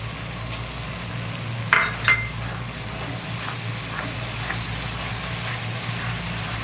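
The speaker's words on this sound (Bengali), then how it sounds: "এবার সব কটাকে একসঙ্গে মিক্স করে নাড়তে থাকবো।" Egg curry mixture stirred in a pan, with a couple of brief scrapes and clinks of a utensil against the metal early on, then a steady low hum and faint scraping.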